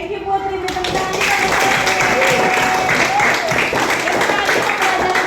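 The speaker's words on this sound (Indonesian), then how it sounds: "Beri tepuk tangan kita." Students clap together in a classroom for a classmate, a dense, steady burst of applause lasting several seconds, with voices mixed in over the clapping.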